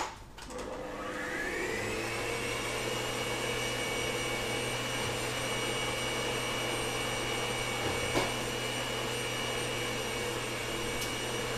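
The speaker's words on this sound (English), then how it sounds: "I'm just going to put it in on for our last mix on the mixer" An electric stand mixer beats Bakewell sponge batter with a steady, constant whirring motor drone that spins up at the start and holds evenly, near and moderately loud, without any talk.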